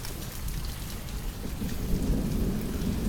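Steady heavy rain pours down around a four-wheeler outdoors while low thunder rumbles underneath, a dense continuous wash with no speech.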